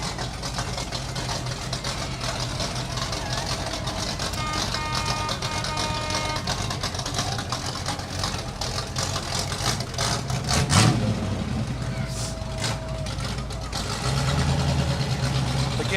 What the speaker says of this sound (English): Boy, that truck sounds good.